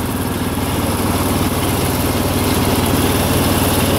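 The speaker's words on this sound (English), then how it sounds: "That little bit of noise is this belt starting to go." A 1983 John Deere 214 lawn tractor's small engine idles loudly and steadily, its even rumble joined by a continuous whirring from a worn drive belt, slightly rough mechanical noise throughout.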